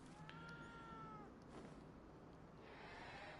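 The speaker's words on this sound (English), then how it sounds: "Even cats in video games don't want to be pet." Cat meowing in a video game, a couple of drawn-out meows near the start, close but faint, followed by quieter background noise.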